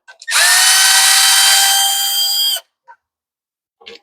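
Power driver backing screws out of an MTD tiller carburetor: one loud, close, high-pitched whine lasting about two seconds, stopping abruptly, followed by a few faint clicks and taps.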